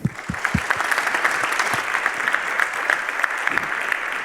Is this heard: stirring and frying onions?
no